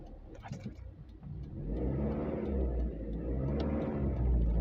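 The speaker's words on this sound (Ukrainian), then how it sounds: "Трішки підгазовуємо. Давайте газу." Close-up car engine during an exam-route drive, starting at low idle and then revving up and holding a steady, loud acceleration drone.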